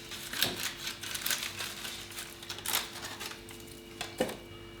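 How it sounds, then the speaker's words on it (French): A knife works through a cooled sponge cake made in a square mould, producing soft crinkly scraping and a few light knocks against a board or dish, faint and close with no talking. "On va la couper en deux."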